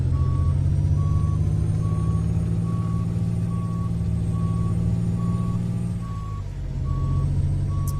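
A Peterbilt 389 truck in American Truck Simulator reverses with a steady, regularly pulsing backup beeper over a loud, low diesel idle rumble, the engine dipping briefly near the end.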